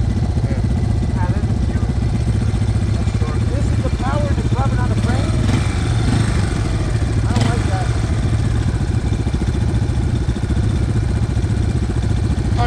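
A Yamaha Warrior 350 motorcycle runs after a push start under a railway viaduct, its engine a steady loud rumble throughout with people talking over it.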